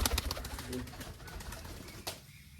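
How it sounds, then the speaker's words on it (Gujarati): A small pigeon coos softly among rustling and handling noises as it is held, with a faint voice now and then. "નાનું એવું કબૂતર છે"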